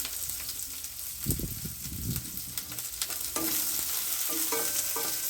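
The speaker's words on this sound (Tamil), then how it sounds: "வெங்காயம் கொஞ்சம் நேரம் நல்லா வதங்கட்டும்" Chopped onion sautéing in hot oil for rava kichadi, a steady sizzle with stirring scrapes around the middle, close and moderately loud, with no talking.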